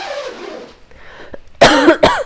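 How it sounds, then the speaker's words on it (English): A person coughs twice, loud and close, in two sharp harsh bursts at the end, after a quieter stretch of faint background noise. "now I could cough freely over here"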